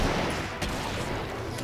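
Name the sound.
gunfire and explosions in Killing Floor video game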